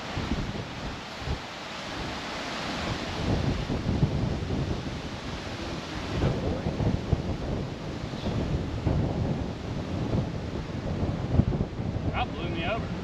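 Strong gale-force wind buffeting a microphone on an open golf course, a continuous loud rumbling roar with gusts swelling and easing throughout, and a few faint voices underneath.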